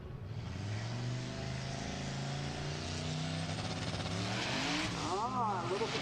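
Turbocharged drag racing car launching down the strip at a Midwest drag meet, a loud sustained engine roar with harmonic drone and a rising whine near the end, the tires spinning loose, under a trackside announcer.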